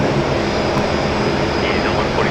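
An Air New Zealand airliner rolls off runway 19 left at Brisbane Airport at night, a steady broadband jet roar at moderate distance that holds level throughout, with a voice talking over it.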